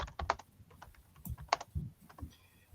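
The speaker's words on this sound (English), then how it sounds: "1 second, I'm just typing in the chat here." Typing on a computer keyboard during a live chat, with irregular bursts of close, crisp key clicks and occasional heavier strokes, no talking.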